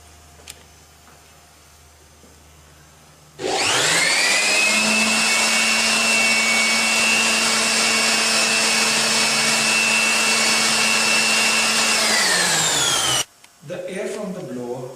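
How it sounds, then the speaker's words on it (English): An air blower holds a ball aloft in a school science demonstration of Bernoulli's principle, starting up with a rising whine into a loud, steady roaring hum for about ten seconds before cutting off abruptly. "The air from the blower holds the ball in air."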